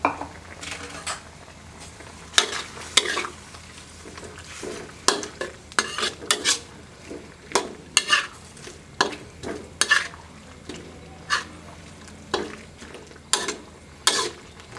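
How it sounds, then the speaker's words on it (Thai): Pork and Chinese kale stir-fried in a pan for Thai rad na, with a spatula scraping and clattering against the metal in quick irregular strokes over a steady low sizzle, close and fairly loud, with no talking. "เดือดแล้วนะครับหมูเราจะสุกแล้วเราก็จะใส่คะน้านะครับ"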